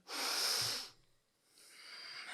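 A person takes a deep breath before going on stage, a long airy hiss that stops, a brief pause, then a softer drawn-out breath that builds again, heard close and alone.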